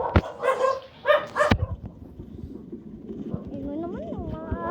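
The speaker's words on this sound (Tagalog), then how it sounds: "Yun naman yung mga aso." Several dogs bark in short, sharp bursts at night, fairly near, followed by whimpering and whining, with people talking throughout.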